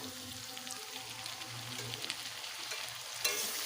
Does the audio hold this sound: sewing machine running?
no